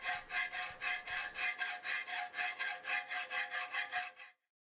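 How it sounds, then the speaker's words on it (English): A file rasps along the edge of a metal plate for a DIY steering wheel, about fifteen even back-and-forth strokes in a brisk close rhythm, then stops abruptly into silence. "Flat and round files are used along all of the edges to remove any sharp spots or cutting marks."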